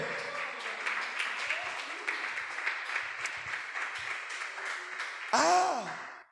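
A church congregation applauds the Lord in a steady, full wash of clapping during a sermon, and a voice breaks in loudly near the end.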